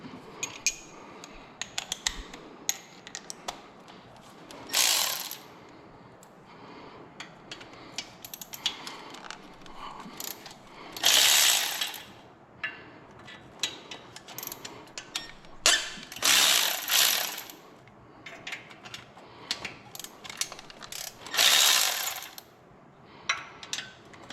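A wrench ratchets on bolts in repeated bursts of quick metallic clicking, close and fairly loud, separated by quieter pauses and small handling clatter.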